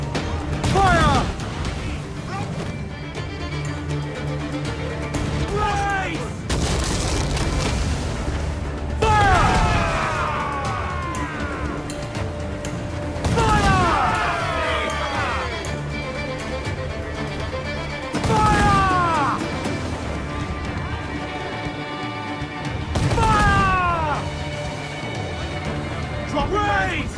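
Ship cannons fire in Assassin's Creed IV Black Flag: loud booming volleys crash out every four to five seconds over a steady low rumble, with shouted commands between and over the blasts.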